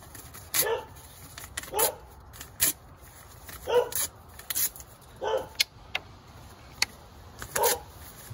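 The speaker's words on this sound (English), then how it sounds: "That's my dog in the background barking at my" A dog barks indoors at a produce delivery, heard in the background as a series of sharp, separate barks spaced about a second apart and carrying on throughout.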